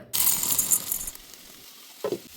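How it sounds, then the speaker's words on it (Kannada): Tempering spices for Betageri chutney hitting hot oil, a sudden bright sizzle burst that fades after about a second, followed by a short spoon scrape. "ಈಗ ಇದನ್ನು ಒಗ್ಗರಣೆ ಹಾಕೋಣಂತ."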